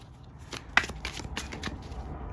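A deck of playing cards is shuffled with a run of quick, soft riffling bursts and flutters. The sound is quiet and close, with no talking.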